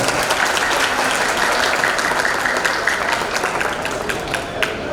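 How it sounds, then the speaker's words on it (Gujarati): An audience at a Divyang Raas Garba Mahotsav event claps loudly and continuously for about five seconds, a dense, steady wash of applause that tapers slightly at the end. "અનિલભાઈ માટે આપણે એકવાર જોરદાર તાળી છે"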